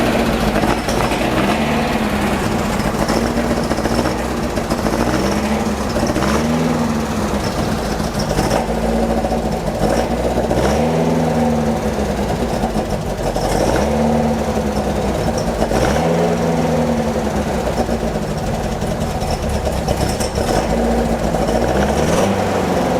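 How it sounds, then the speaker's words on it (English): A Beck 550 Spyder replica's engine runs steadily, loud and close, with a rough rhythmic idle that surges and dips in repeating pulses every couple of seconds throughout. "But we'll go ahead and start the engine and see where we are."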